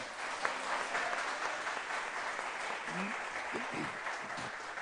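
Studio audience applause on a Turkish television entertainment show, a steady, dense wash of clapping that fills the whole stretch, with faint voices underneath.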